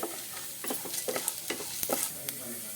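Lentils and black peppercorns dry-roast in a pan while a spoon scrapes and stirs them, giving a soft sizzle broken by repeated close scraping strokes at an uneven pace, with no talking.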